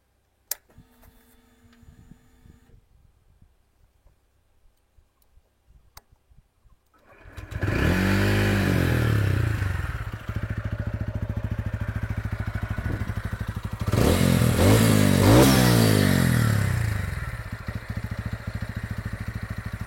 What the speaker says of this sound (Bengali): এবার চলুন বাইকটার এক্সস্টের সাউন্ড আমি আপনাদেরকে শুনিয়ে দিচ্ছি